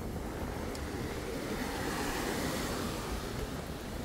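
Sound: ocean waves and wind at Mamucabinhas beach

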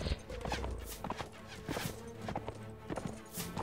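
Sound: horse hooves clip-clopping in video game Mount & Blade Warband

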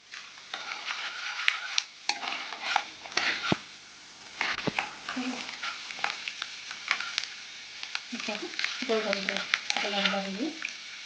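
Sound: frying avalakki (flattened rice) in a pan until golden

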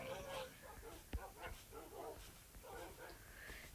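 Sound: tamed dogs barking in Minecraft video game

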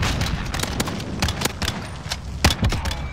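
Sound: gunfire in a video game gunfight

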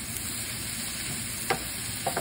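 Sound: mixing omelette ingredients with butter in a pan

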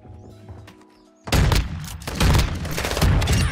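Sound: sniper rifle quickscope shot in a video game

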